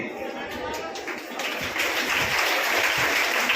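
An audience at a Hindu satsang gathering clapping, a dense crowd of hand claps that swells louder midway and keeps going steadily, with a voice speaking over it.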